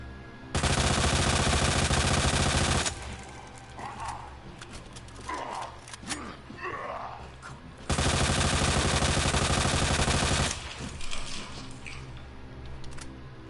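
The LE 5 submachine gun in Resident Evil 2 fires two long, loud, continuous automatic bursts of about two and a half seconds each, with quieter gaps between them holding scattered impacts and game noises.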